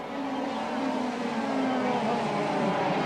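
135cc racing karts in the 1986 Hong Kong Kart GP final drone steadily on track, a continuous buzzing engine roar that stays loud and close throughout.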